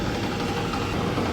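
A crusher machine driven by a 38 kg electric motor runs continuously, giving a steady, mid-pitched mechanical drone with a slight rumbling vibration and no speech.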